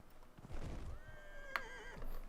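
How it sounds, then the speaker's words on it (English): A horse in the video game Dragon Age Inquisition gives a short, quiet whinny, with faint hoof clip-clops around it. "I love how my horse like just flops like that."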